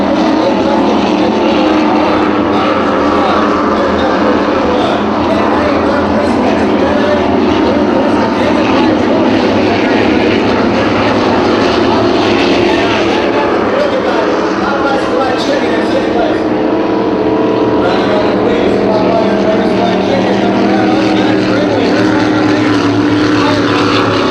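Racing powerboats roar past during the Pickwick powerboat race on the water, a loud continuous engine drone that stays steady throughout, with a commentator talking over it.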